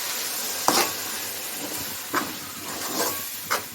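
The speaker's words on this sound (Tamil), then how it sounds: "ஊற்றிட்டு இதை வதக்கிடுங்க." Ground tomato paste sautéing in a pan for a quick okra kuzhambu, a soft steady sizzle broken by a few sharp stirring scrapes, close and fairly quiet with no talking.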